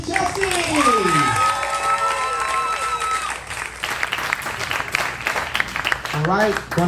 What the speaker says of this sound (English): one more round of applause for Chelsie!